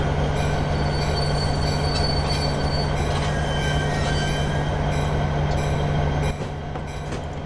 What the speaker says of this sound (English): so we're going to stop this train.